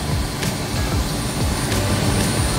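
A Bell 206 helicopter during startup as the throttle is rolled up, giving a loud, steady turbine whine and broadband roar with a faint rhythmic rotor thump underneath.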